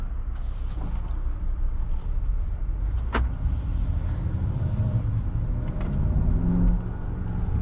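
Land Rover Defender 110 OCTA pulling away, a low, steady engine rumble with road noise heard from inside the cabin and a couple of sharp clicks or creaks.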